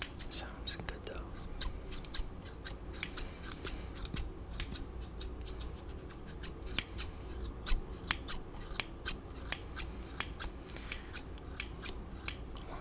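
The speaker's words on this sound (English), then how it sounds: "So right here I have with me a nice pair of scissors." Kitchen scissors snip crisply in a quiet room, a steady run of sharp close metallic clips spaced irregularly, some louder than others, with no voices.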